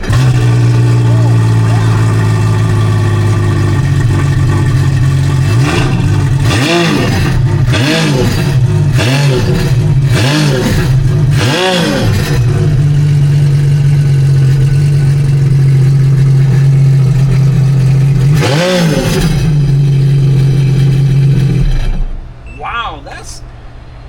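A Sea-Doo RXT-X 325 jet ski fitted with a RIVA dual exhaust idles with a steady, loud low rumble, broken by several sharp throttle blips in a quick cluster and one more rev later before the engine cuts off.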